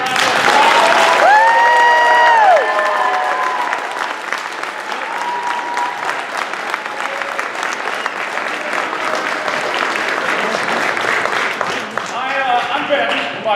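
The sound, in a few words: audience applause after children's play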